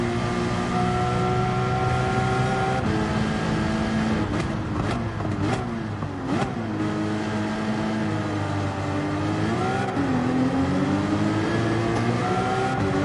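A race car engine in Gran Turismo 7 drones continuously with rising and falling pitch as it revs and shifts gears, heard from inside the cockpit.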